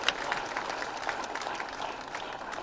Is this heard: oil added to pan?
no